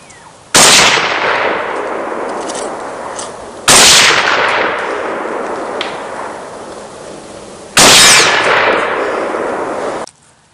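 Three loud, separate 7.62x39 rifle shots fired at a steel target, each a sharp crack with a long ringing decay, spaced several seconds apart outdoors.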